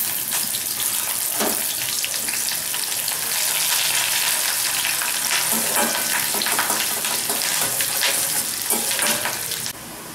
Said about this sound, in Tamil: இப்போ வெங்காயம் போட்டுக்கலாம். கருவேப்பிலை ஆட் பண்ணிக்கலாம்.